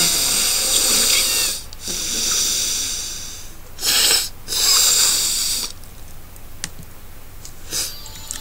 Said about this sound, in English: you'll be able to hear me breathing